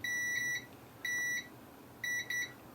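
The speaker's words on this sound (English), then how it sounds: "You'll hear a beep on this side, because that's ground" A multimeter set to continuity gives short, clear electronic beeps while probing the ground side of a faulty Nintendo Switch board, three separate clusters of quick pulsed tones with quiet gaps between.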